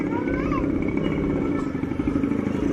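Motorcycle passing nearby on a warm midday street, a steady buzzing engine drone that holds throughout with slight rises in pitch, fairly close and mixed with ambient outdoor noise.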